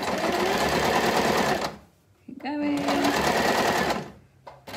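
Close sewing machine stitching a fabric shopping bag around a curve, running in steady bursts with a short pause, while someone talks over the whirring motor.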